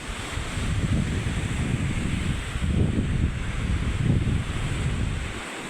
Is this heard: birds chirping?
no